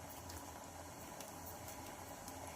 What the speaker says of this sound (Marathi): इथे बघू शकता मस्तपैकी याला उकळी आलेली आहे।